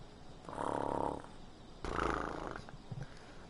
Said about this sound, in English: Fell asleep to the sound of everyone's peaceful breathing.